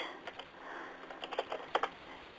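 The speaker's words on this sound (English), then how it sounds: "Let's go ahead and type in our new patient" Fingers type new patient details on a computer keyboard, a quick, irregular run of close, light key clicks.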